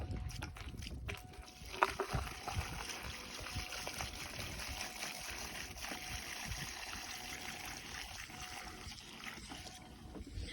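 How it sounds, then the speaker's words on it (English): Gasoline is poured into the fuel tank of a Ford Mustang foxbody unused for five years: a steady, faint liquid trickle runs continuously with a small clunk near the start. "About to pour this gas in."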